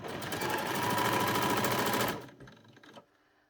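A sewing machine stitches doll's pyjama trousers in a fast, even whirring run for about two seconds, then slows and stops, leaving a few faint mechanical clicks before near silence.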